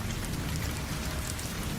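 Heavy rain pours in a steady, dense hiss with a low rumble beneath, loud and unbroken.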